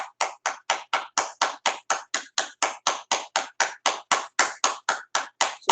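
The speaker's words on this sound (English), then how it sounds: "So this is clapping therapy." Hand claps in a clapping therapy session, a steady, evenly spaced train of about two dozen sharp, loud claps, close by and with no talk.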